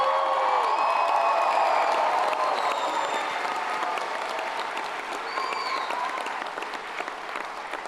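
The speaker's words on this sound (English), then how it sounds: "Can we get a round of applause?" A crowd at a graduation ceremony applauds with sustained, dense clapping, with whistles and cheers mixed in, loud at first and easing slightly toward the end.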